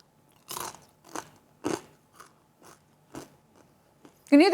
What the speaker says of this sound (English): Can you hear the crunch?